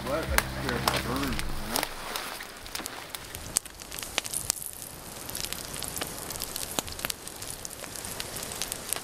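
Campfire burning outdoors in the northern Manitoba wilderness during a storm trip, with faint crackles and soft sizzling hiss throughout, sharp pops scattered across it, and people talking near the start.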